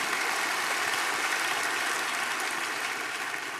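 Congregation applauding at a church service, a steady wash of clapping from many hands that carries on evenly and fades slightly at the end, with no voices over it.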